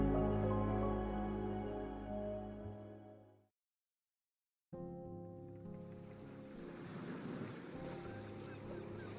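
Dark sea waves wash and beat beneath a pier while wind gusts across the microphone, a steady surging rush that cuts out briefly midway and then returns fuller and noisier.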